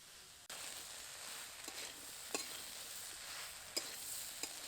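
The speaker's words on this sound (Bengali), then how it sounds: "আবারও কিছুক্ষণ ভালো করে নেড়ে চেড়ে নেব" Pui greens and stalks cooking with spices in a pan are stirred, giving a steady soft sizzle broken by a few brief scraping taps from the spatula.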